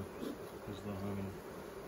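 Honeybees buzz in a soft, steady drone while an emergency split hive is inspected, with a brief clearer hum near the middle.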